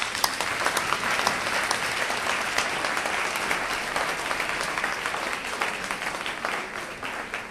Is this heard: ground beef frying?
no